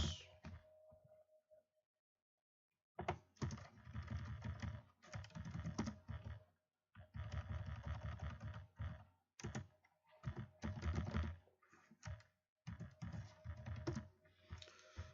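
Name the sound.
typing a chart title on a computer keyboard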